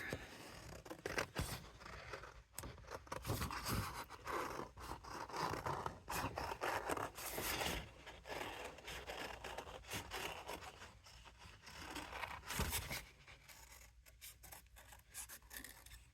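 Scissors cut away paper for a craft project, a steady close rasping and rubbing with repeated snips, faint and continuous with no voices.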